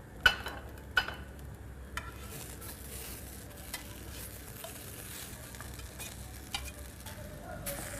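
Potato rosti frying in butter in a pan beside a fillet steak, a steady soft sizzle with a few sharp utensil clicks and scrapes near the start and scattered through.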